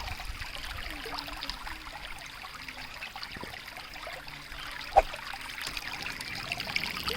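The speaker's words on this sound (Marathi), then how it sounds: "तुम्हाला मी पाण्याचा आवाज ऐकवते." A clear stream flows below stone steps at the Ambachondi temple, its water trickling in a steady, soft rush, close and continuous, with no voices over it.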